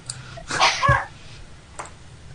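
One short, sharp sneeze close to the microphone during a World of Warcraft 3v3 arena tournament broadcast, followed by quiet background.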